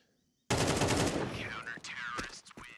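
A sudden burst of close, loud AK-47 rifle fire in Counter-Strike 2 breaks in after a short silence, a rapid string of shots that thins into scattered sharp cracks.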